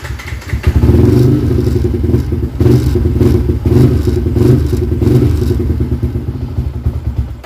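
A motorcycle engine starts up and revs loudly nearby, rising and falling in several throttle bursts before settling into a rough idle.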